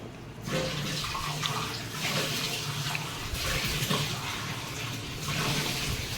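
Tap water runs in a steady, loud gush, as if filling a cup or vessel in a kitchen, continuous throughout with no speech.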